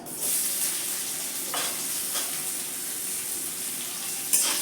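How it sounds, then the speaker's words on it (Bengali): Chopped onion frying with white cumin in a pan, a steady quiet sizzle with a couple of soft stirring scrapes and a brief clatter near the end. "এবার এর মধ্যে দিয়ে দেবো কেটে রাখা পেঁয়াজ"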